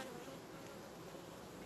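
Honeybees crowd the hive frames in August, giving a faint, even buzz that runs throughout with no talking over it.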